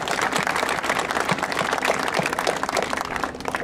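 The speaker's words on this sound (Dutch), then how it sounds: "U mag daarvoor best nog even klappen," Crowd at an international fly fishing fair applauding event staff: steady, moderately distant clapping from many hands in a hall, sustained and even, with faint murmur beneath.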